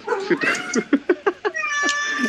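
A female cat meows in a run of short, close, loud cries, a few of them stretched into longer wails, with no talking over them.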